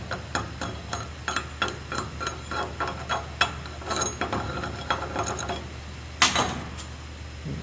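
Slag is chipped off a SMAW (stick) weld with a chipping hammer, a series of sharp metallic taps and clinks at an uneven rhythm, close and fairly clear, ending with a louder strike.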